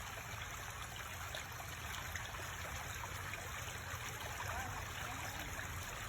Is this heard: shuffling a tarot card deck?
no